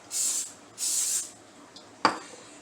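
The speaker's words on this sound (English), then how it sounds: "spray it down pretty heftily" Two short hissing bursts of an aerosol can of non-stick cooking spray, close by, followed by a faint click.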